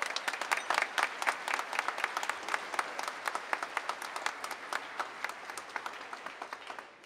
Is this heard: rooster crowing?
no